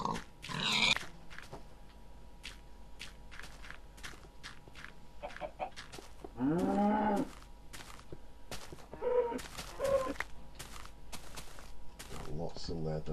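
A pig in the Minecraft video game gives a few short grunting oinks in separate bursts, scattered over a clicky background of footsteps and other game sounds.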